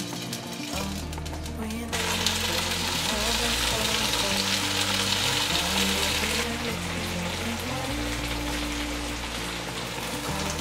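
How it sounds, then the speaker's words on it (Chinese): Tofu skin rolls fry in a pan of warm oil, giving a steady crackling sizzle that grows louder and denser after the first couple of seconds and then holds evenly. "锅内放入适量的油，油微热，把豆包放进来煎。"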